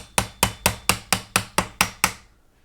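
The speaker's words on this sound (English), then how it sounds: "I've got a pair of wire cutters here, but I'm going to gently tap and see if I can't get it further down" Wire cutters tap a part of a DeAgostini ISS model down a post in nine crisp, evenly spaced, close light knocks, then stop, with no voices.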